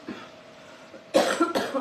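A person coughs twice in quick succession, two loud, harsh bursts close to the microphone that follow a quiet stretch of faint room noise.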